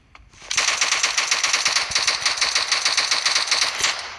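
An SKS DMR rifle in the mobile game BGMI fires rapidly by two-finger tap-firing. The shots come as one loud, continuous, fast rattle of evenly spaced reports lasting about four seconds, with no voice over them.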